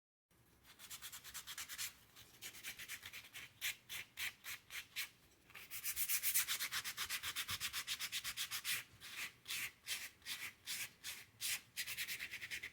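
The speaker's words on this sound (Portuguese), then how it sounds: "Vou lixar ele e as asas, para depois a gente poder fazer a pintura." Hand sanding of a pine wood rooster and its wings with sandpaper, a rhythmic run of close, rasping back-and-forth strokes, steady at first and then a longer continuous rub before short strokes resume.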